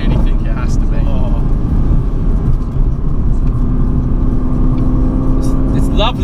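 A Mercedes-AMG GT C Roadster engine droning loud and steady from inside the cabin while driving, with road and wind noise under it, and people talking over the engine.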